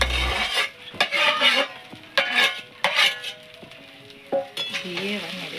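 Vegetables being tossed and stirred in a wok for chowmein, with a crackling fry under sharp metal clanks and scrapes of a utensil against the pan at an irregular rhythm, close up.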